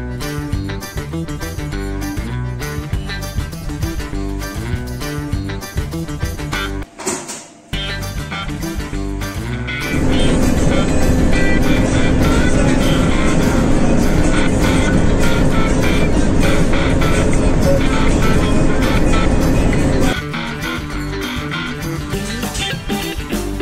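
A small car drives along the road on an errand run, with a steady cabin rumble and tonal hum that swells into a louder, rougher road roar for about ten seconds before settling back.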